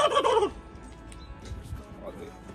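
A turkey gobbles once, loud and close, a rapid warbling burst followed by quieter background noise.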